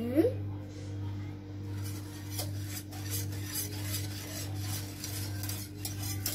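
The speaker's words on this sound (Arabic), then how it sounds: "نديرو المايزينا، غادي نخلطو مزيان" A spoon scrapes and rubs steadily around a bowl as cornstarch is stirred into a summer dessert mixture for muhallabia, a continuous rasping rhythm over a low background hum.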